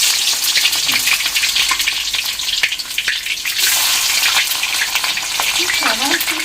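Chopped onion frying in oil on a clay stove for home-made mutton biryani: a loud, dense, continuous sizzle close up, with stirring scrapes running through and no talk.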